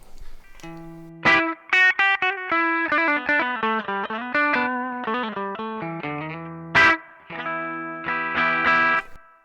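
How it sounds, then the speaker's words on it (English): A Fender Stratocaster with vintage-style pickups through a valve amplifier, warm and slightly gritty, plays a lively melodic phrase of single notes and short chords, with ringing sustain and no voices. "starting off with a Fender Stratocaster that has 1965 pure vintage style pickups"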